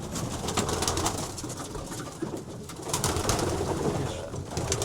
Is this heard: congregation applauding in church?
no